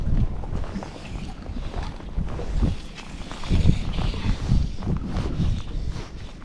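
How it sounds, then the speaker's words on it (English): Gusty wind buffets the microphone at Penstock Lagoon in Tasmania, rising and falling in loud rumbling surges across the whole stretch with no other sounds standing out. "Oh, here comes the wind again."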